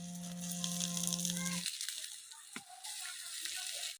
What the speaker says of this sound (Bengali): এরমভাবে আমি সবকটাই কিন্তু ভেজে নিচ্ছি।